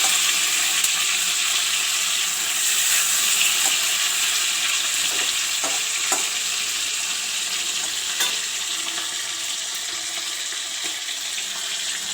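Steady, close sizzle of vegetables frying in hot oil in a home kitchen, with occasional clinks and scraping strokes from stirring and no talking throughout.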